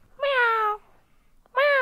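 A child imitates a cat's meow with her voice, two drawn-out, clearly pitched 'miaou' calls separated by a short pause, close and loud.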